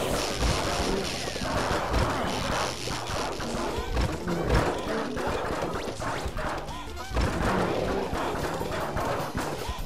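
Explosive booms and rapid popping bursts from Plants vs. Zombies 2 gameplay, a Grapeshot plant blasting amid a dense, continuous barrage of game effects that stays loud across the whole stretch.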